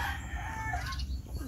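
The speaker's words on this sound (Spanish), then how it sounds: "aquí hay 200 y pico de gallos" Roosters crow and cluck in the background at a gamecock breeding yard holding over two hundred birds, a faint overlapping chorus of fowl under steady ambient noise.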